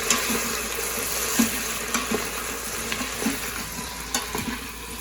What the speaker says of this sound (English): you just want to stir to coat